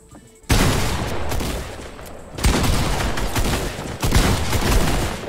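Rapid bursts of gunfire in Fortnite strike the player, loud and close, arriving in three separate volleys with brief gaps between them.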